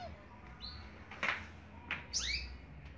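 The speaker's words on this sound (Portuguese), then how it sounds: "Passarinho cantando." A small bird chirps and tweets outdoors beside a clothesline, giving a few short, faint, rising calls spaced across the moment over quiet background hiss, with a soft voice nearby.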